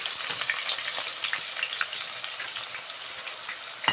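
About three large sliced onions frying in hot oil and ghee for stuffed vegetable mahshi, a dense continuous close-up sizzle and crackle throughout, with no talking.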